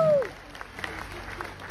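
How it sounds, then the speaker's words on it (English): An audience at a cruise ship Q&A session claps, a thin scattered applause heard faintly, with a short voice-like tone at the start. "Now we're going to keep that applause going"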